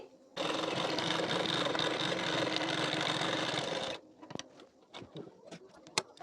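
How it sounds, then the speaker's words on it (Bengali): A sewing machine runs continuously for about three and a half seconds, stitching the hem of a blouse. It is a close, even mechanical whir, followed by scattered light clicks and fabric handling. "এখানে মেশিনে সেলাই দিয়ে নিচ্ছি"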